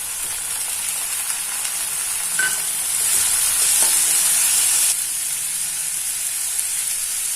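Tomato sizzles in a hot pan while a mushroom and gooseberry omelette is being made. The steady hiss swells louder for a couple of seconds midway, with faint clinks of stirring.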